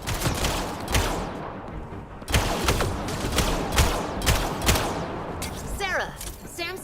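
Rapid sci-fi gunfire in a firefight from the video game Mass Effect Andromeda, repeated loud cracking bursts in uneven volleys, with shouting voices mixed in and a warbling electronic effect near the end.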